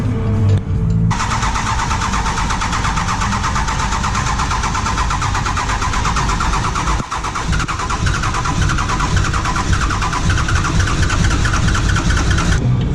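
A powerful car engine cranks and catches after a jump start from a Superstarter 9000 jump pack at a dyno session, then runs with a loud, dense, continuous roar close by for the rest of the stretch.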